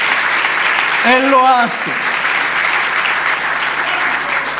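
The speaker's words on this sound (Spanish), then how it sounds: "denle un fuerte aplauso al Señor" Church congregation applauding for the Lord, a steady wash of many hands clapping throughout, with a preacher's voice speaking briefly over it near the start.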